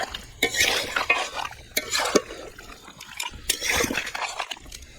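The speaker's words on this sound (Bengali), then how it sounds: "এবার মাংসটা সাথে ভালোভাবে মিশিয়ে নেবো" Chicken pieces being stirred with sour yogurt in a pot, close wet squelching and scraping strokes in an uneven rhythm, with light clinks of a utensil against the pot.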